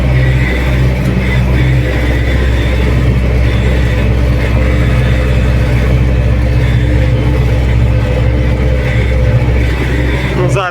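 A Lovol 1054 tractor pushing soil with a trailed KPS-4.2 bulldozer blade, its engine drone loud, steady and close, with constant low rumble throughout and no audible talk.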